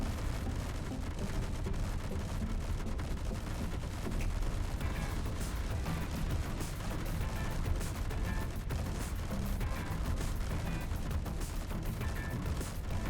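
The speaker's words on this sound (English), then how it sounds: "have very clangy turrets for some unknown reason, but they do shoot, and they do the job" Clangy turrets on a small-grid Stargate Universe Destiny ship in Space Engineers fire nonstop, a dense rattling barrage of overlapping shots and metallic clanks that holds steady and loud from start to finish, with no voices.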